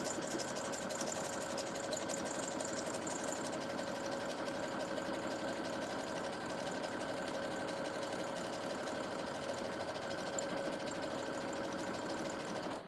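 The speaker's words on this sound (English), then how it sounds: "I went ahead and started sewing in my ribbon." Close by, a sewing machine stitches ribbon and fringe onto an organza handbag, running as a steady, continuous mechanical hum and rapid rattle without pause and with no talking.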